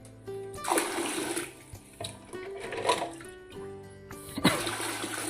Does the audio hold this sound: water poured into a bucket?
yes